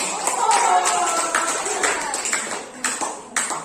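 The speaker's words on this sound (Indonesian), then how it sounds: "Tepuk tangan sekali lagi" Students in a classroom lesson on zakat give a brief round of clapping, a loose scatter of separate claps with a few sharper hand slaps near the end.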